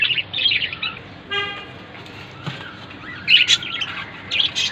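Budgerigars chirp and twitter in quick high bursts over a steady background hum, with a brief tonal toot in the middle.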